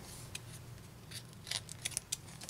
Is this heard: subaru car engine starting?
no